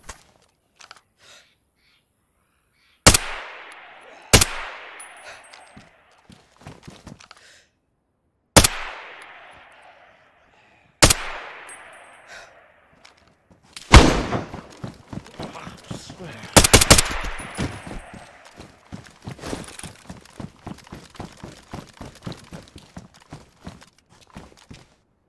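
Heavy gunshots in DayZ: several loud, sharp single blasts, each trailing off in an echo with silence between, then a denser volley of cracks and clatter.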